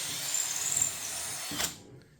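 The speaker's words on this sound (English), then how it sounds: "I'm just going to drill through there." A power drill drives a slightly oversized bit through a bolt hole on a DIY pneumatic prop, a steady close whine that holds for over a second and a half, then winds down and stops.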